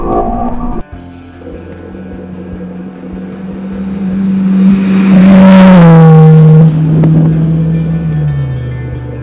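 A naturally aspirated Honda S2000 engine revs up loudly after a downshift, rising to a howling peak close by, then easing back to a steady drone.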